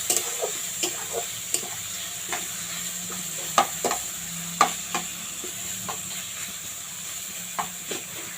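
Food fries in a pan as turmeric and salt are stirred in, with a soft steady sizzle broken by repeated sharp scraping clicks from the stirring utensil at an irregular rhythm, close and fairly quiet.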